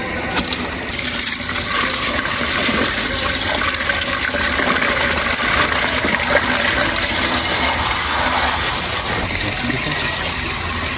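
Water gushes and splashes loudly and continuously as a container of freshly caught koi and snakehead fish is tipped into a village pond, the rushing sound holding steady for several seconds before easing off.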